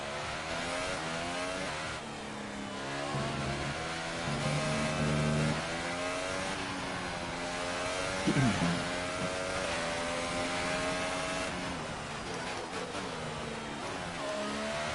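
F1 2018 race car engine during an install lap in the video game, a continuous mid-pitched engine drone with rising and falling revs and a sharp gear-change blip partway through, with speech-like voices faintly underneath.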